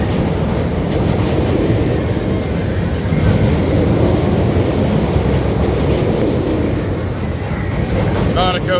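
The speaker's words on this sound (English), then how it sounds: "See, you hear the motor constantly going. It doesn't coast." Boomerang roller coaster at Six Flags St. Louis running, with a steady loud rumbling roar and rattling from the train and its constantly driving motor, continuous throughout with no coasting lull.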